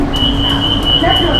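A Bangkok metro train on the Siam line stands at National Stadium station, giving off a steady mechanical hum with a thin high whine held throughout, close and loud, with faint background voices.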